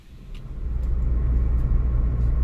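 A car's low engine rumble and road noise fill the cabin from inside, swelling as the vehicle gets moving and then holding a steady drone, with no talking.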